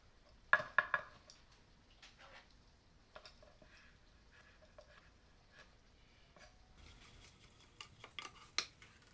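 A knife cuts cooled cooked chicken into bite-sized pieces on a board, producing quiet, sparse taps and clicks that come in small clusters, with a brief busier run of cuts near the end.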